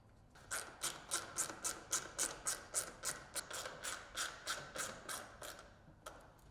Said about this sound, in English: Now, install 4 screws to assemble brackets to the roof.